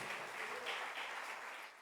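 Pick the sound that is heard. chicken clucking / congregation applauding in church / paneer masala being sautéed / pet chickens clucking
congregation applauding in church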